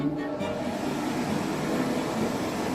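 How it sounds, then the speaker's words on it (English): An electric hand dryer in a public restroom blows continuously, giving a loud, steady rushing roar that holds without pause for the short stretch. "since there's no toilet paper, dry your hands with the dryer"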